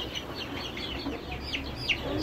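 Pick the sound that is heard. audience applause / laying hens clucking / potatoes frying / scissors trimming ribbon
laying hens clucking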